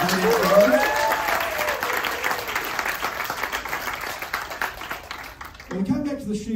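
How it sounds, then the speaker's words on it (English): A shipboard audience on an Antarctic voyage aboard the World Explorer claps loudly for the Zodiac boat drivers, a sustained wash of many hands, with a voice at the opening and speaking again as it dies away. "a big round of applause for the Zodiac drivers"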